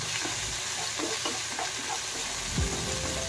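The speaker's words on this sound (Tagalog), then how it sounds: "Then, haluin lang natin siya." Chili garlic sauce is stirred into fried lapu lapu fish in a pan, with a continuous quiet sizzle and a few light scraping strokes close by, and no talking.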